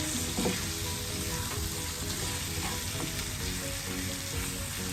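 Chicken curry with pineapple is mixed in a hot pan, giving a loud, continuous close sizzle with an occasional soft stir and no voices.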